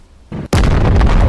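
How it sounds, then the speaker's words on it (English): A revolver fires in the video game Animal Company: one sharp, loud, close shot after a short lead-in whoosh, its blast ringing out and staying loud to the end. "He has a revolver"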